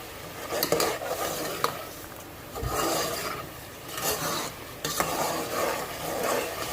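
Masala frying in oil in a pot for white chicken korma: a continuous sizzle with repeated scraping stirs of a spoon against the pan, close and moderately loud, with no talking.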